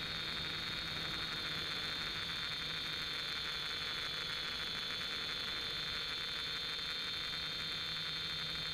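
An FY326 quadcopter drone's small motors whir in a steady, high, hissing drone throughout flight, constant in level with no pauses.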